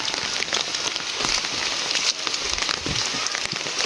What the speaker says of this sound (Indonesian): Ini hujan tapi nggak terlalu deras ya